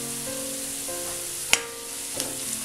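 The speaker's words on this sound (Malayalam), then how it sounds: "ഇതൊന്ന് ഈ പൊടികളൊക്കെ ഒന്ന് മൂത്ത് വരണം." Turmeric and chilli powders frying in a pan for a red spinach kofta curry give a steady, hissing sizzle, broken by one sharp utensil clink and a couple of lighter taps near the end.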